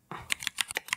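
Crisp mechanical keyboard keystroke sounds from the Mechvibes app, about six sharp clacks in a quick, slightly uneven typing rhythm, close and clear with no talking.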